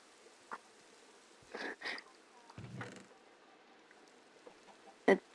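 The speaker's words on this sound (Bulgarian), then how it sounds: "Сега тия кокошки са твоени тук." Minecraft chickens cluck in short bursts, with a lone cluck, a quick pair, a longer squawk and a sharp, loud final cluck spaced across the stretch against a quiet background.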